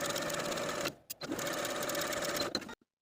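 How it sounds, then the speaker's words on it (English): A domestic sewing machine runs in steady rapid bursts while edge stitching around garment sleeves, close and clear, with a brief pause midway and a stop at the end. "take your sleeves to the sewing machine and edge stitch close to that inner fold all the way around for both sleeves"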